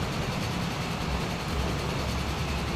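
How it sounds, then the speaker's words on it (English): A diesel train engine on a freight line in the Transport Fever video game gives a steady, dense low rumble that holds evenly throughout at a moderate level, with no talking. "You can hear a diesel engine on the side. That's on the freight line"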